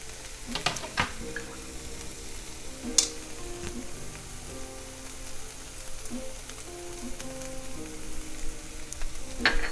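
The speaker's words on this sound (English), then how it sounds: "this we only need a minute or so to let all of this saute" Vegetables and garlic sauteing in a hot pan, a soft steady sizzle with occasional light scrapes and clinks of stirring, fairly quiet and close, no voices.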